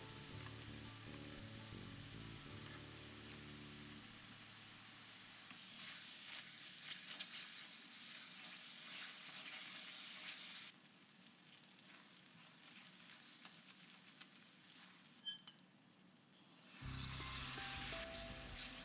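Spice paste of Kashmiri chilli powder and spices mixed with water fries over medium heat in a pan for chital fish kalia, a steady close sizzle running throughout with brief shifts in intensity.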